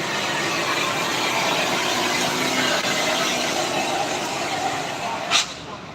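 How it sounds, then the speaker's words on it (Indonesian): A Hino truck engine runs steadily on the Sitinjau Lauik mountain road, a continuous broad rumble with a faint squeal, staying fairly loud throughout with a brief sharp spike near the end. "Hino made in Jepang."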